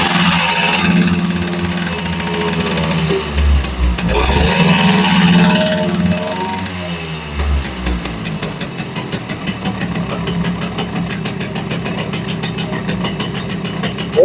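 Simson moped two-stroke engine running on a test bench under a light blip of throttle, a steady buzzing drone that rises and settles, turning into a rapid, evenly pulsing idle patter in the second half.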